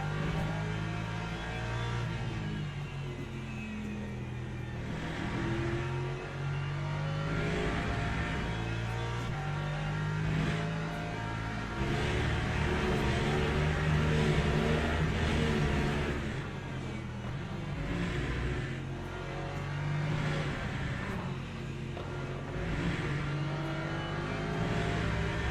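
Hypercar race engines in the Le Mans Ultimate racing game during a 10-hour Qatar event: a constant dense drone of high engine revs with repeated surging accelerations and gear changes, steady and loud without speech.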